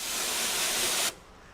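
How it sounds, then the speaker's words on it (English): An aerosol degreaser sprays in one continuous loud hiss on a Honda Accord's engine bay and door jambs, then cuts off abruptly, leaving faint room noise. "I am degreasing all the engine bays, all the door jams, and all the door sills and all that."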